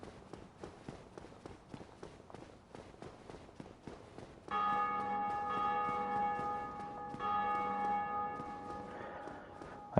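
Bells of awakening ringing in Dark Souls Remastered, a sustained metallic chime that enters midway and rings out over earlier quick footsteps and ambient game noise, moderately loud with lingering resonance.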